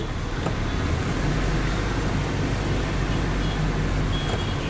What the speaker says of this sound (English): Traffic jam around turn.